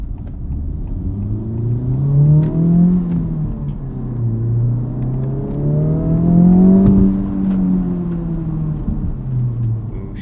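A 2023 Honda Civic Type R accelerating on the road, its engine note rising and falling through two clear revving sweeps, loud and close from inside the cabin with steady road rumble underneath.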